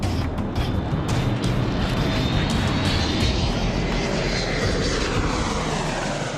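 An airliner with two Rolls-Royce engines roars away on a go-around, a loud, sustained broadband engine blast with a faint rising whine, close and unbroken throughout.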